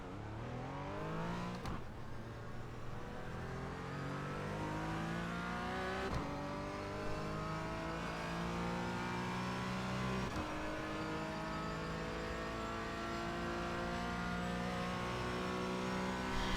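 A Porsche Cayman 718 GT4 race car on the Mount Panorama circuit at Bathurst accelerates hard, engine pitch climbing through the revs with several distinct gear changes, loud and close from onboard.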